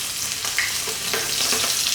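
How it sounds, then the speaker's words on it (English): Prawns frying in hot oil in a wok or pan for salt and pepper shrimp, a steady close crackling sizzle with a few brief pops, no talking. "we're placing the prawns into the hot oil."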